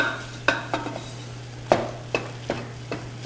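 A wooden spoon stirs a flour and butter roux in a pan over medium heat, giving several close, distinct scraping knocks with a faint sizzle beneath them and no voices.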